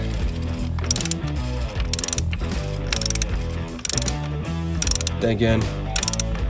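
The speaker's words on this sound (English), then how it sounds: "It comes with a ratchet as well. And you're going to turn it counterclockwise." A ratchet loosening the oil filter housing on a 2015 Audi A3 1.8T clicks in quick, loud bursts of rapid pawl ticks between short pauses, with a brief spoken phrase over it.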